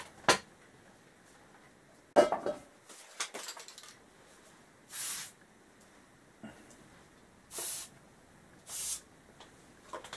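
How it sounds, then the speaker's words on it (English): Penetrating fluid sprays onto rusted bolts on a Honda ST1100A motorcycle in several short hissing bursts, each about a second long, mixed with clunks and handling noises in a quiet workshop. "So let's get some penetrating fluid on these."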